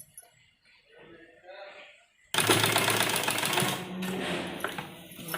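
An electric sewing machine stitches the side seam of a men's kurta, starting abruptly and running loud and steady with a dense whirring rattle after someone speaks softly over the quiet opening.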